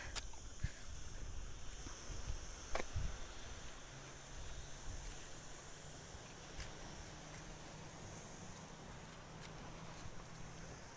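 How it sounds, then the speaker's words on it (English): Steady wash of sea surf rolling in under a breezy, open outdoor ambience at Calpe, Spain, with a faint low engine hum drifting in the background. "Nice bit of sea waves in the morning and watching the boats go out"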